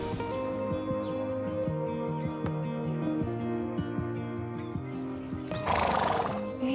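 A horse neighs loudly with a long whinny near the end, over steady hoof clip-clop and faint birdsong in the background.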